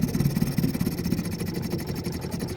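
A vintage Johnson TD-20 5 hp outboard motor runs steadily on a lake, a close, even mechanical drone with a fast rhythmic pulse and no pauses.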